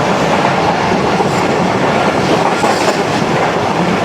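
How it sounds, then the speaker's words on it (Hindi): The Karakoram Express passes through a station at speed near Karachi, a loud, steady, close roar of rolling wagons with dense clatter throughout and no one speaking. "स्पीड देख लें आप कराकर एक्सप्रेस की, हर स्टेशन को पिछाड़ती हुई जा रही है।"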